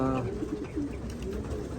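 Racing pigeons coo close by in soft, rolling bursts, several low throaty calls overlapping in a quiet loft with faint background noise.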